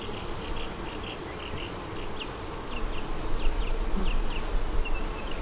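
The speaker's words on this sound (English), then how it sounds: "There's the bees in the top." A dense, steady buzz of many honey bees in a hive fills the air up close, with individual bees droning in and out over the constant hum.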